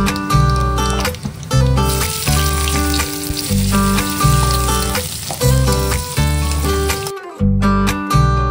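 Fresh tilapia fish sizzles steadily in hot oil, a continuous loud frying hiss under rhythmic tonal music.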